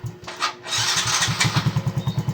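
A Yamaha Mio M3 scooter engine, freshly top-overhauled and running without its cover, cranks and catches, then settles into a close, steady putter with evenly spaced pulses.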